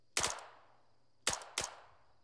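Video game gunfire comes as three sharp, loud shots, one alone and then a quick pair a second later, each with a short ringing tail over near silence.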